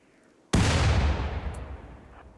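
A grenade blast destroys a turret in the desert colony game Rimworld: one sudden loud explosion that hits hard, then rolls and fades over about two seconds, with no voices.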